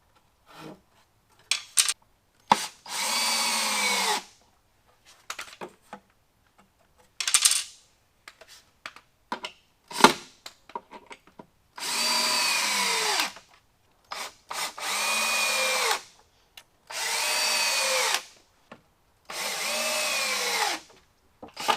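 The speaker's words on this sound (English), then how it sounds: "I pre-drilled my sill plate for screws in all of the locations I'd be attaching a stud." A power drill drives screws into a wooden sill plate in repeated short bursts, each a few seconds long with a rising whine, separated by quiet gaps and small handling clicks, close and loud.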